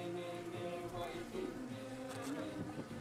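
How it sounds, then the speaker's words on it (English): Many bees buzz around October flowers in a permaculture garden zone, a dense, continuous, wavering hum of overlapping wings, close and quiet with individual insects drifting nearer. "We can just listen to the sound of many bees."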